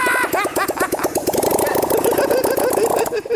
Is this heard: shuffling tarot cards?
no